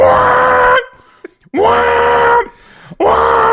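A voice mimics a siren with three loud, rising and falling wails, each held under a second, with brief breaths in the gaps.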